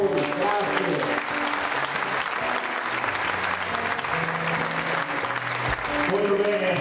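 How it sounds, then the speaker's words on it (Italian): Sustained audience applause fills a municipal theatre in Thiene during a 25 April commemoration of the 70th anniversary of the Resistance, dense and steady for several seconds, with voices faintly underneath and a swell near the end. "facciamo un grande applauso a tutti voi"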